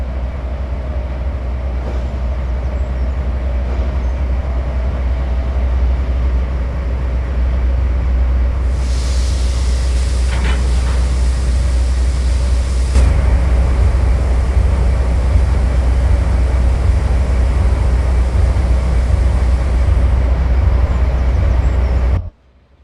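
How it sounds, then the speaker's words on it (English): A locomotive rumbling steadily during a top speed run, with a deep continuous drone and a brighter hiss partway through, loud and close until it cuts off abruptly at the end. "This locomotive stops quite well"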